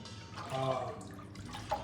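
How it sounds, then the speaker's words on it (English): Boiled hog maws strained, with water draining out and leaving fat clumps behind, giving soft, faint trickling and dripping close by, with a small splash near the end. "I just take it, strain it like this, leaving the fat clumps in the water."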